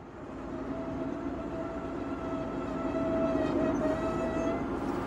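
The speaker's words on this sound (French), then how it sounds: "Et nous entrerons en gare de Tabidit, construite en 1909 au début du transport du phosphate par le train." A phosphate train pulls into Tabidit station in Tunisia, built in 1909: a steady rumbling roll with faint squealing tones that swells slightly toward the end, close and continuous with no talk.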